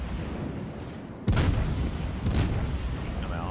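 Warship guns boom in a World of Warships naval battle: two heavy, loud blasts about a second apart over a continuous low rumble of background battle noise.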